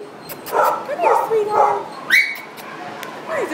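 A skinny, underweight purebred-looking dog whimpers and yips in short high whines close by, under a person talking softly.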